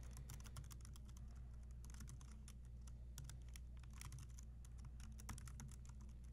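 Fingers type quietly and steadily on a computer keyboard, entering server details with a continuous patter of keystrokes and no talk.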